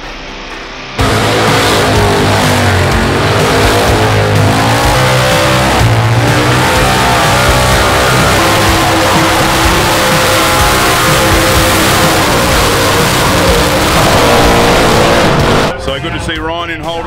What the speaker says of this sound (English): Let's go see some burnouts.